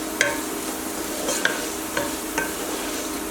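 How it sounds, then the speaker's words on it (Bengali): Cubed potatoes fry in oil over medium heat with a steady soft sizzle, broken by four brief scraping clinks as they are stirred. "আলুগুলো আমি মিডিয়াম আঁচে হালকা করে ভেজে নেব"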